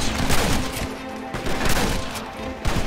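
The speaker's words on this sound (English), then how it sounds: "Take out Dutch's gang. Haven't we taken out a ton of Dutch's gang? He had an entire army here at his disposal. Take cover, shoot" Red Dead Redemption shootout gunfire crackles in rapid, irregular bursts of shots and booms, loud and dense across the whole stretch, with no clear talk over it.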